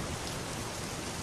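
Rain falls in a dense, steady hiss, a constant even wash of drops with no breaks, filling the background without any voices.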